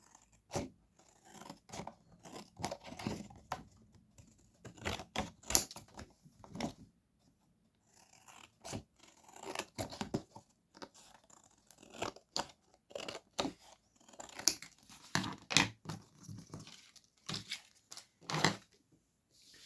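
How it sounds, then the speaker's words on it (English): Scissors snip and trim paper while making a 7x5 greeting card with a rose-patterned paper collection, a run of short, close, crisp cuts in irregular bursts with brief pauses, no talking. "And then just cut off the extra bits."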